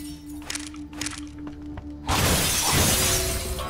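A plate or glass shatters in Shadow Warrior, a sudden loud crash followed by a dense spray of breaking shards and debris that fills the rest of the moment after quieter game ambience.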